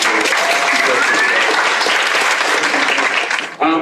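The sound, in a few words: audience applause for the speakers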